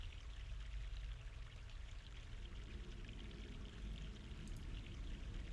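Fresh mountain water pouring in The Longest Journey adventure game, a steady, faint splashing stream flowing without a break.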